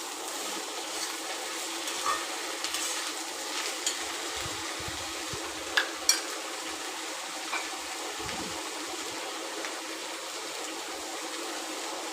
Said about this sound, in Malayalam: ഇഞ്ചി വെളുത്തുള്ളി പേസ്റ്റും സവാളയും ഇട്ട് നല്ലപോലെ വഴറ്റി കൊടുക്കണം